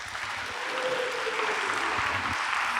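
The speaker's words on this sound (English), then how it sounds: "Let's give a big round of applause for all of our speakers." Wedding reception guests applaud the speakers, a steady, even wash of clapping from a room full of people that continues without a break.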